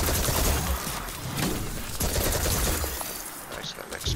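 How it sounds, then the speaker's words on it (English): An explosion goes off in Destiny 2 during a Stasis-build fight, with a broad crashing burst amid ongoing gunfire and game effects, partly under a voice talking. "Nice little explosion there."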